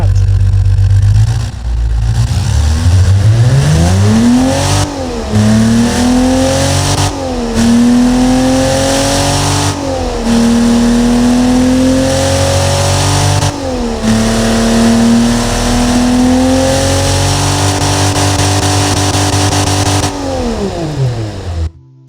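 A simulated 1974 Ford 300ci inline-six engine in the Automation game revs repeatedly, climbing in pitch, holding, dropping and rising again in several loud, close cycles before cutting off abruptly.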